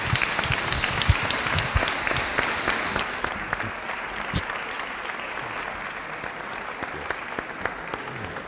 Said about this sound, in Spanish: un aplauso importante para ellos